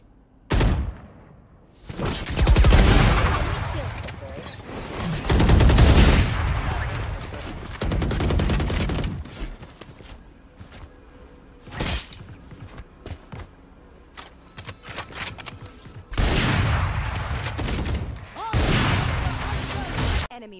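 Gunfire in Valorant comes in several loud, dense bursts and sprays separated by quieter gaps. Player voices are heard faintly in between.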